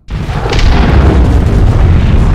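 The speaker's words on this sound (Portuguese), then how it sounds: "o bicho ficou entre as duas explosões nucleares" A nuclear explosion in the space strategy game Starsector, a sudden, loud, deep boom that rumbles on and stays dense and roaring to the end.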